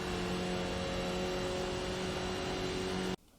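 A Skip Barber race car in iRacing at Lime Rock Park holds a steady, loud engine drone at constant pitch before it cuts off abruptly at the end.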